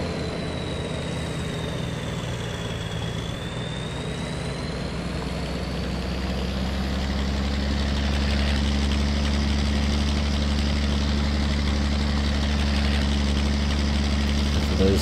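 A Zetor tractor engine idles in a video game mod, a steady, close, low rumble with a constant mechanical hum that runs unbroken and alone throughout.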